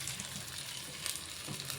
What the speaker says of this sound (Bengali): এই আলুটাকে ততক্ষণ এই গরম তেলেতে ভাজতে হবে যতক্ষণ না আলুটা একটু লাল মতো হয়